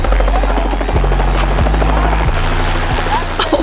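Helicopter rotor beating loudly and steadily with a deep pulsing thump and a low engine hum throughout.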